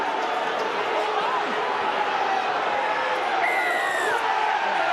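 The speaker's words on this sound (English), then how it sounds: "The Wakefield fans are still booing that decision." Rugby league crowd at a Wakefield match, a steady dense roar of fans booing a referee's decision, with a commentator talking over it throughout.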